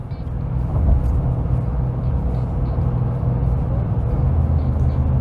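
A Ford F150 with the 5.0L Coyote V8 engine labours uphill while towing a heavy load, heard from inside the cab as a steady low rumble with constant road and drivetrain noise.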